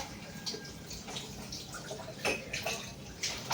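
A cup is washed under running water, with faint splashing and dripping and a few light clinks, all heard at low volume.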